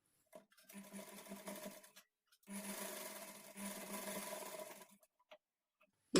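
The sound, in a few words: sewing machine stitching a blouse shoulder joint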